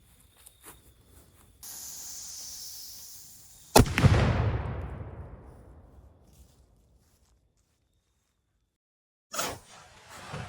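A large domed diabolo airgun pellet is fired at ballistics gel: a quiet stretch, then a steady hiss, a sharp loud crack and a long decaying rush fading to silence, followed by a brief burst of handling noise.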